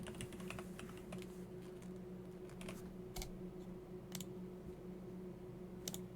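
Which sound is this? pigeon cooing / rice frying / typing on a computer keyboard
typing on a computer keyboard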